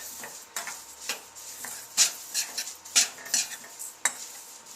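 A spoon mixing homemade stovetop stuffing mix in a bowl, a run of light clinks and scrapes against the dish at an uneven pace, close but quiet with nobody speaking.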